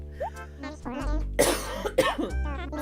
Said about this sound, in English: Excuse all the coughing.